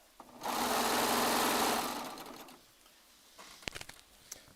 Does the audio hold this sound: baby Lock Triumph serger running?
yes